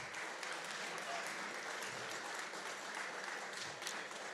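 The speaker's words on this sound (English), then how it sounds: "Give Jennifer a round of applause." Steady, faint audience applause fills a hall at a university entrepreneurship innovation challenge final, a continuous dense patter of many hands that stays even throughout.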